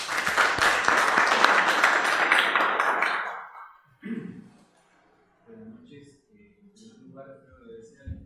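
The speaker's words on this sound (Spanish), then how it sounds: "Vamos a recibir con fuerte aplauso al profesor." Audience applause greeting a professor at a conference on confidence and political responsibility in Peru, a full burst of clapping for about three seconds that fades out, followed by sparse taps, small noises and speech.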